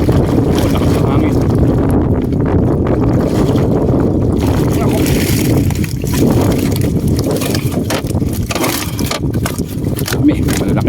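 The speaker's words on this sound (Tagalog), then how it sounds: "Lakas ng hangin." Strong storm wind roars loud and unbroken over a fishing boat, a dense rumbling buffet that batters the microphone for the whole stretch, with a voice speaking faintly beneath it.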